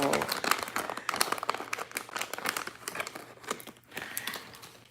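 Foil press-on nails handled and crinkling: dense, continuous crackly rustling close to the mic, with a voice talking over it.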